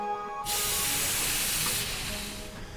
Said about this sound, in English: Just the hiss of steam and a waft of coal smoke in the air is enough to put anyone in a holiday mood.